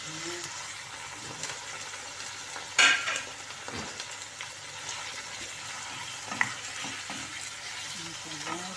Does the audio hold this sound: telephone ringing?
no